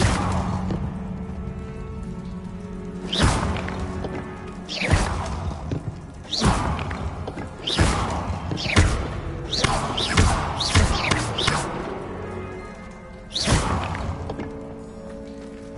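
Bombarda blasting spell impacts in Hogwarts Legacy land as a series of about eight sharp thuds and whooshing bursts, irregularly spaced, some in quick clusters, over quiet background.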